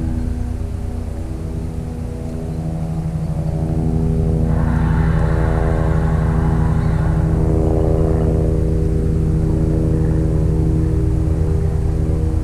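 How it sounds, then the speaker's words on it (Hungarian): A helicopter flies over the Tisza river, a loud steady droning rotor and engine hum that swells and stays close for several seconds, with no one talking. "Nem feltétlenül jó, hogy itt a Tisza fölött szaladgál a helikopter."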